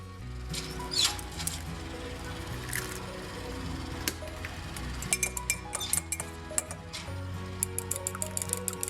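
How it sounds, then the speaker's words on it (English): An egg gets beaten in a bowl for keto mug bread, with soft stirring and scattered light clinks of utensil against the bowl that grow more frequent toward the end, close up and without talk. "Mix your egg."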